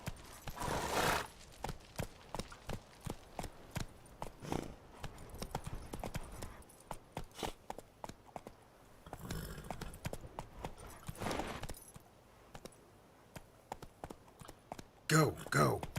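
Horse hooves clip-clop at a gallop in The Witcher 3, as bursts of rhythmic hoofbeats that stop and restart, with a whinny and someone talking over them.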